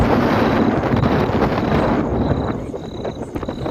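Strong wind buffets the microphone outdoors in a loud, gusty roar that eases slightly toward the end, with faint high tones in the background.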